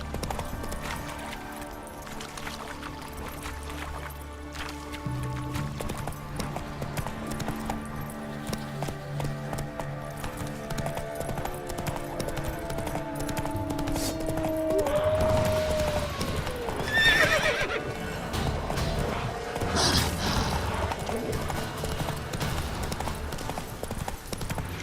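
Horse hooves in The Witcher 3 video game, a steady rhythmic clip-clop of a trotting horse throughout, with a loud neigh partway through and game music and sound effects underneath.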